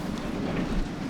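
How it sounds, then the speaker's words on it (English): Strong wind on the deck of an aluminum motor yacht, a steady loud rushing roar buffeting the microphone for about a second, with no voices. "It's very windy."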